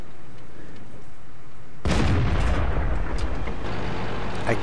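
A tank cannon fires during video game combat, one sudden loud blast followed by a heavy rumbling decay that lasts for seconds.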